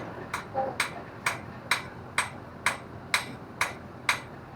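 A blacksmith hammers hot metal to forge a spoon, striking nine times in a steady, even rhythm. Each ringing blow is sharp and close, over a low background hiss.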